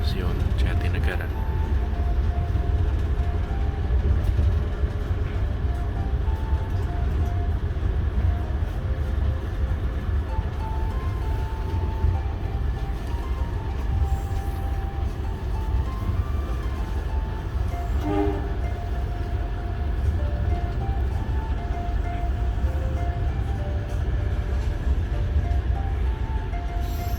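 The Gajah Wong passenger train rumbles steadily toward Pasar Senen past Jatinegara station, a loud continuous roar of wheels and carriages with brief horn tones partway through.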